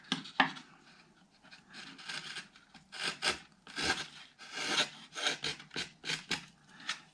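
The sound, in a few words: hand-carving wooden acoustic guitar top braces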